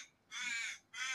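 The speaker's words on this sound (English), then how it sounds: "There's a crow." A single crow caws twice, two harsh, drawn-out calls with a short gap between, heard in a quiet yard in the Victorian goldfields of Australia.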